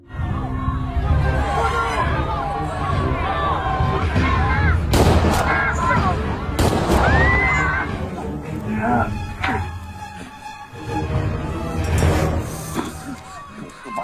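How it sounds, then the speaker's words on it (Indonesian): Pistol shots fired into a crowd in a film scene about Indonesian villagers and Japanese soldiers: several sharp cracks ring out over loud, continuous crowd shouting and commotion. "Sidokandono justru mengerahkan pistolnya lalu menembakkannya kepada para warga"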